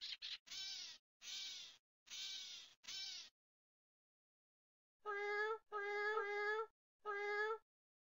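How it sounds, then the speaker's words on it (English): A gray catbird sings: a run of harsh, scratchy phrases, then a pause and three drawn-out, cat-like mewing calls, clear and fairly close. "What song does the gray catbird sing?"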